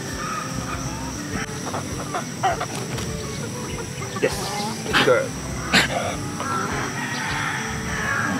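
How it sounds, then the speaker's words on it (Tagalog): Chickens on a farm squawk and flap in short, scattered bursts as a farm dog chases them, with a couple of louder cries near the middle and a person talking throughout. "Then try natin hagisan ng manok."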